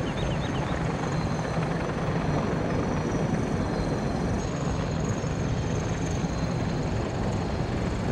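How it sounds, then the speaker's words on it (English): Helicopter in a video game, flying where it was never meant to, with a steady, close, continuous rotor chop and whine lasting throughout, no voices. "Helicopters weren't meant here, but FDR seemed to get it working."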